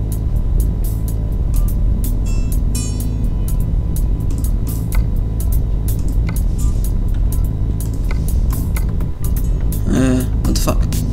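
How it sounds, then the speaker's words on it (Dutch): A truck engine idles and then drives in Euro Truck Simulator 2, a steady low rumble running throughout, with someone speaking over it and scattered clicks and higher menu or dashboard sounds. "We starten gelijk even die motor en we gaan rijden"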